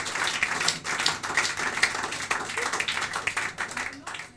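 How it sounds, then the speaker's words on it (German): Audience applause on the set of a German celebrity talk show in Dinslaken, a steady wash of many hands clapping at moderate level throughout with some voices mixed in. "Das ist ein Applaus wert."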